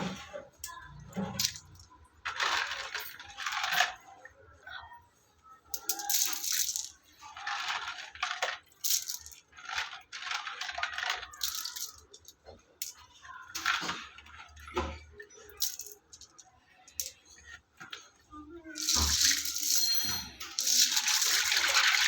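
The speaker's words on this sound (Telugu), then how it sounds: "సో అయితే మనం స్టోన్స్ వాష్ చేసుకుంటున్నాం" Small stones washed and rubbed by hand in a mug with water, giving close, repeated bursts of clinking, rattling and gritty scraping with sloshing in between, in uneven clusters separated by brief pauses.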